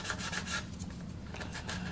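A sanding stick rubs steadily across the surface of a Cylon Raider model kit, giving a continuous dry rasping scrape with slight back-and-forth pulses, close and alone.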